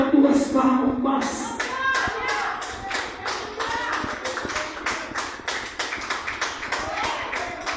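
Church worship congregation clapping hands in a steady rhythmic beat, moderately loud and close, with voices talking over the claps at the start.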